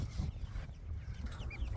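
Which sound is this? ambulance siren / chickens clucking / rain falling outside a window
chickens clucking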